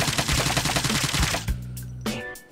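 A KN-44 assault rifle fired in Call of Duty Mobile, heard as a rapid automatic burst of about a dozen loud, evenly spaced shots, then a sharp final crack and a brief metallic ring.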